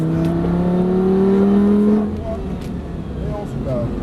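Lamborghini Gallardo accelerating on a track during a driving course, a loud engine tone rising steadily for two seconds, then easing off to a lower hum, with voices talking over it.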